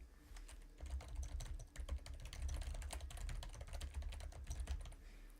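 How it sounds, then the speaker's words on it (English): Rapid keystrokes on a computer keyboard clatter in a steady, irregular stream of close, crisp clicks, picked up by a Fifine microphone, with no voices present. "Let me pretend to do some typing."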